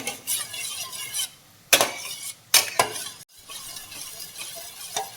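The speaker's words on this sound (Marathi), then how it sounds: "सात ते आठ अंड्यांसाठी बनवत आहे भुर्जी त्याला चांगलं मिक्स करून घ्यायचं" Egg bhurji for seven to eight eggs with fried onion is stirred and mixed in a pan, giving scraping, clinking utensil strokes against metal over a soft sizzle, with a few sharper knocks in between.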